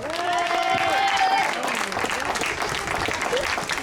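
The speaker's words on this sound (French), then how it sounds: "le podium des catégories U11, on peut les applaudir" A crowd claps steadily for the under-11 podium at a youth cycling school trophy race in Saint-Juéry, the applause dense and sustained throughout with a faint voice and whistle-like tone early on.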